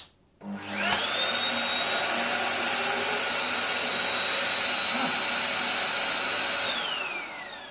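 A Vorwerk VK135 vacuum cleaner, just repaired after a motor fault, switches on with a short thump, spins up to a loud steady motor whine with a high tone, then starts to wind down.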